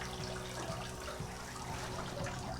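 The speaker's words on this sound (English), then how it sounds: "quite a number of separate streams of water coming off" Water streams off a perforated sparge plate clip in a home brewing setup, a faint, steady trickling and splashing that runs continuously over a low background hum.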